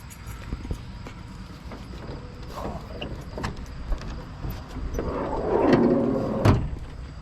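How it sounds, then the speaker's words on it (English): The hood of a Land Yacht car is opened: a series of metallic clunks and latch clicks, then a louder creaking, scraping swing of the hood near the end, close up with no talking. "I'll take you guys and we'll get the hood opened up"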